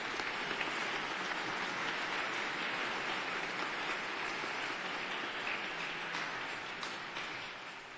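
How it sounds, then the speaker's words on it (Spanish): Audience applause at a magazine presentation and round-table event, a dense, even patter of many hands clapping in a hall, sustained for several seconds before tapering off toward the end. "un aplauso para los que van a participar"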